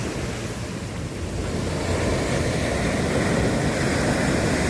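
Ocean waves wash steadily onto the shore at night while a fishing boat waits offshore, a continuous broadband roar of surf mixed with wind buffeting the microphone, swelling slightly louder after the first second.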